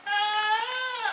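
A single goat gives a loud, close, wavering bleat lasting about a second, clear and alone.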